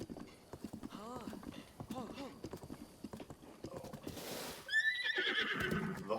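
A horse in the Breath of the Wild video game clip-clops along at a steady trot, then lets out a loud, drawn-out neigh near the end, with a voice talking over the hoofbeats.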